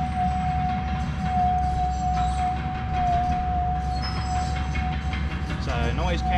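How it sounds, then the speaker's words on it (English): A heavy excavator being driven down at a gold mining site: a steady loud engine drone and mechanical rumble with a sustained high whine, continuous throughout, distant machinery filling the background. "bringing the excavator down at the moment"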